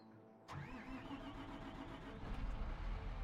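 A John Deere 7R Series tractor engine in Farming Simulator 22 cranks and catches abruptly, then settles into a steady rumbling idle that grows slightly louder toward the end, heard alone without voices.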